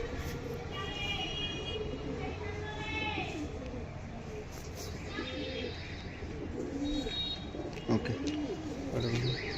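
Pigeons at a pigeon sale cooing in soft repeated low calls with some chirps, heard under nearby conversation and background crowd noise.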